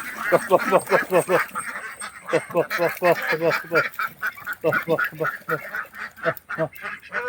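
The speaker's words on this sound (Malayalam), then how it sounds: "നമ്മുടെ നാടൻ താറാവുകള് നല്ല രസമായിട്ട് വെള്ളത്തെ ചുള്ളിച്ചാടിച്ചിരിക്കുന്നു" Native Kuttanad ducks on the water in Kerala give a long run of rapid, nasal quacks, several birds calling over one another at fairly close range and at moderate loudness.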